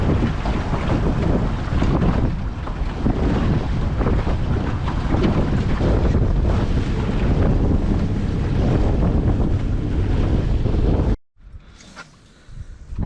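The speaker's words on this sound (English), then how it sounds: "the wind is becoming ridiculous" Strong wind buffeting the microphone by a lake boat launch at Rene Brunelle Provincial Park, Ontario, with a constant roaring rumble, loud and continuous, cutting out briefly near the end.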